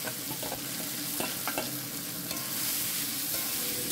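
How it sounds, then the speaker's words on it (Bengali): Boiled spring onion stalks and potatoes being stirred into browned fried onions in a pan, with a steady sizzle under repeated scraping stirs, close and continuous with no talk. "1 মিনিট সময় নিয়ে ভাজা পেঁয়াজের সাথে আমি সমস্ত সিদ্ধ উপকরণগুলোকে মিশিয়ে নিব।"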